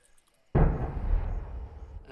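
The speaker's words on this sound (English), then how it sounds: "the familiar boom of the cannon" A single deep boom erupts after a brief quiet, then rolls on as a long rumbling decay that stays loud to the end.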